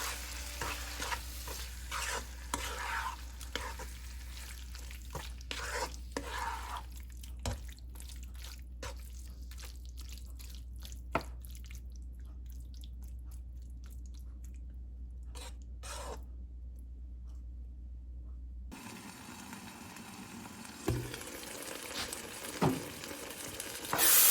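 Chopped tomatoes and salt stirred in a frying pan, giving soft, quiet scrapes and clicks over a faint sizzle and low hum, which drops away near the end before a few last sounds.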